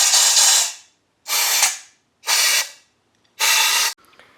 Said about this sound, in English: The last thing I'm going to do is get some compressed air and blow it through